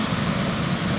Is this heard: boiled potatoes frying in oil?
no